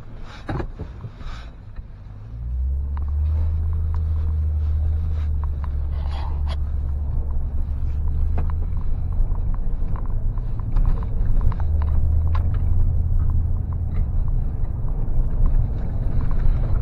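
A 2016 Toyota Tundra pickup pulls away and cruises, with a low steady engine and road rumble inside the cab. A few soft clicks and knocks come early, and there is no talk.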